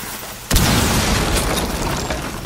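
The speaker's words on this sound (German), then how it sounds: "Jetzt nehmen wir Granate." A grenade explodes in the video game Rainbow Six Siege, with a sudden loud boom followed by a sustained rumbling roar and scattered debris over the next couple of seconds, with no talk.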